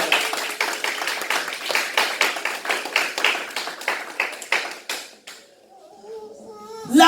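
A church congregation at a Sunday worship service breaks into loud, sustained rhythmic clapping that fills the room for about five seconds, then fades to quieter room sound with faint voices near the end.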